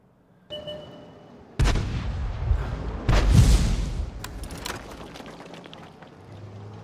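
M40/M43 self-propelled artillery in a tank battle game fires two heavy booming shots a second and a half apart, the second deeper and rolling, followed by lingering rumble and faint background battle noise.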